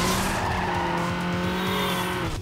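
Race cars roar from the Need for Speed Underground video game, a loud steady engine drone with high tire squeals and skidding held throughout, ending in a brief cut.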